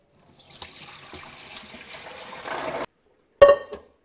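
Water poured from a cooking pot into a kitchen sink, a steady close splashing stream that thickens, stops abruptly, then a short second gush and drip.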